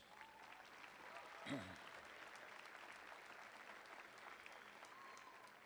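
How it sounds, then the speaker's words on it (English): Faint, steady audience applause at the Montgomery High School class of 2017 graduation, a distant crowd clapping throughout with a brief louder burst early on and some murmuring under it. "Let's give all of them a big round of applause."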